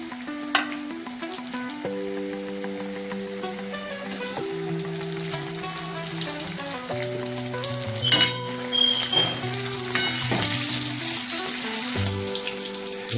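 Green chillies dropped into a cumin tempering frying in hot oil for urad dal give a steady sizzle with occasional clinks of a utensil, under background music.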